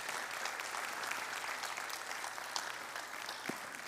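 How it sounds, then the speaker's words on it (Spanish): A crowd at a public conversatorio on the jaguar in Michoacán gives a steady round of applause, fairly faint and even throughout, with no speech over it. "Regálame un aplauso,"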